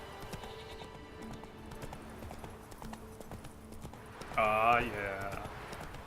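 Hooves of Roach, a horse in The Witcher 3, clip-clop at a steady gallop through the whole stretch, with a voice talking over them and a brief neigh-like cry near the end.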